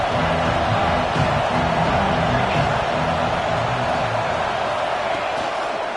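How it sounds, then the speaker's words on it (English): A stadium crowd at an NCAA college football game makes a loud, continuous roar that fills the whole stretch, with a broadcast voice talking over it. "This crowd ready to make its presence known."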